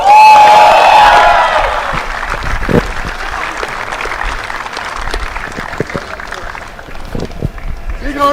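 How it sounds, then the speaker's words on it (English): Crowd applause at the Mumbai Open WTA 125 women's tennis tournament: loud, dense clapping that peaks at the start and then settles into steadier, thinner clapping, with a voice briefly heard at the beginning. "Big round of applause for Manoj."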